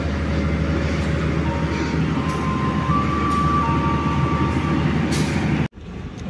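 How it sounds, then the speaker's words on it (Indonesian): Passenger train standing at Probolinggo station in Java, a loud steady rumble of idling machinery with faint tonal whines, ending in a sudden sharp cut and brief hiss like a release of air. "Tiba di stasiun Probolinggo."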